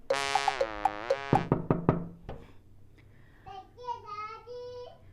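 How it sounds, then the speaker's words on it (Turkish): A few sharp knocks on a door during children's pretend play with dolls visiting a neighbour, a quick run of about five raps following a high, warbling toy-like tone, with a child-like voice chattering afterward. "Kapıyı çalalım."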